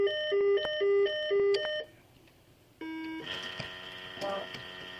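Breathalyzer machine emitting a series of electronic beeps after no breath sample is given, short steady tones in a quick pattern, then a pause and a longer tone amid faint room noise at a police station.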